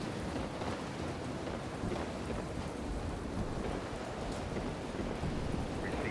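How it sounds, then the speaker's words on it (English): Steady rain hisses and pours with low rumbling thunder in a stormy video game scene from From the Depths, dense and continuous with no talking. "Man, the weather really is bad. I do like these storms."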